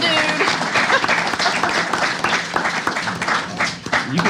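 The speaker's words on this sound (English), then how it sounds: "let's give him a hand" An audience applauds at a Monster Fest live event, a dense, steady wash of clapping from a crowd that holds at full strength throughout, with some speech mixed underneath.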